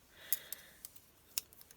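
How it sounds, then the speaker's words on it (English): Scissors trim a piece of paper cardstock down into a tag base, giving a few quiet, sharp snips spaced irregularly over a hushed background. "I am going to trim this off with scissors"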